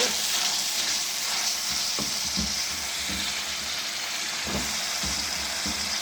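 Chopped tomatoes and onions sizzle steadily in a hot pan, a continuous frying hiss broken by a few soft stirring knocks of a spoon, close and fairly loud with no talking.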